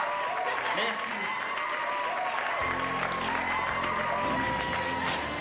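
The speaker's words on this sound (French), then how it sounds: "bravo, applaudissez-la." Audience applause with some cheering for a woman who has just danced the twist, steady and fairly loud throughout, with music and a voice speaking over it.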